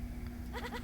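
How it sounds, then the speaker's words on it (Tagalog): Goat bleating briefly nearby, a short wavering cry over a low background hum, heard alone without talk. "Ang kambing."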